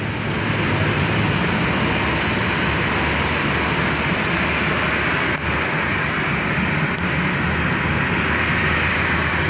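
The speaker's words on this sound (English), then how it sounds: "And a Virgin Aussie taxiing into the international terminal." Virgin Australia airliner taxiing at Perth airport, heard as a steady, loud jet-engine roar that holds without a break throughout and has no speech over it.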